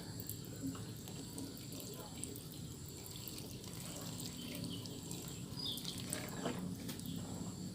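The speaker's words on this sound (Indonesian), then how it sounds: "Jadi kalau air sudah mengalir sampai bawah, itu artinya semua media sudah terbasahi oleh penyiraman yang kita lakukan." Water drains through the soil of a potted adenium after watering, a soft trickling and dripping that runs throughout, faint and close.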